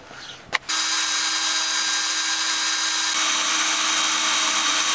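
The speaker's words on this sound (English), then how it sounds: "I have all four holes now drilled." A power drill whines steadily and loudly after a brief knock, boring bolt holes for a homemade skid plate and holding one sustained high-pitched tone.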